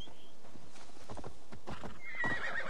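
A horse in Assassin's Creed Valhalla arrives at a run after being whistled for, its hooves clip-clopping in a quick rhythm that grows nearer before it lets out a loud whinny.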